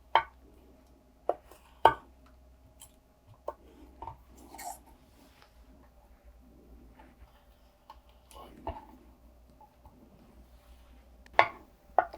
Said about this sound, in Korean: 그리고 세발나무라고 비슷한 두께로 채 썰어줍니다.